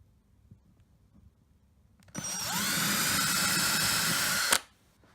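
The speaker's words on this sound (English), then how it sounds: "trying to be careful not to drill all the way through" After a quiet start, a power drill whirs loudly and steadily into a wooden kitchen worktop for about two and a half seconds, then stops abruptly.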